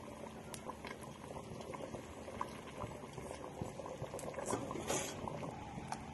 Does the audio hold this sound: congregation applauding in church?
no